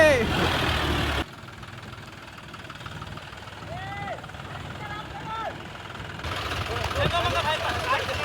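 Idling tractor engine rumbling steadily at a moderate distance outdoors, with brief warbling sounds overhead and speech at the start and end.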